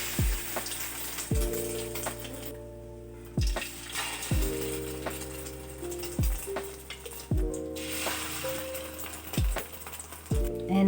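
Peanut coated in egg frying in hot oil in a pan, a steady sizzle with repeated clinks and scrapes of a utensil against the pan over the top, close and fairly loud, with no talking.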